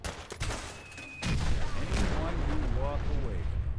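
Gunfire in the Fallout 4 VR video game, a sharp burst of shots followed by a dense, sustained barrage of booming fire and rumbling explosions, loud and close throughout.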